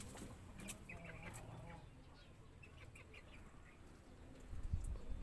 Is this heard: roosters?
yes